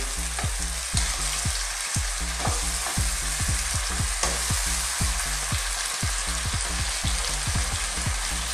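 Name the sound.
stirring sautéed bitter melon and fried fish in pan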